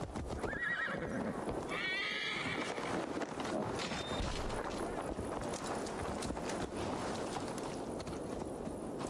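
A horse whinnies at the start in the game Assassin's Creed Valhalla, then hooves clip-clop steadily at a walking pace, close by, with a busy ambient background.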